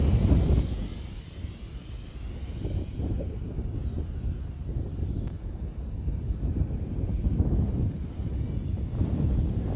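An E-flite Turbo Timber Evolution RC airplane flying in wind, its electric motor giving a steady whirring drone that holds at moderate loudness with slight swells, alone without talk.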